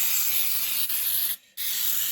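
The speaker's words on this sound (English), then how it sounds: "So we're going to spray our pan over here" A can of Baker's Joy no-stick baking spray hisses steadily into a cake pan for eggnog cinnamon apple cake, one long close spray that halts briefly, then resumes.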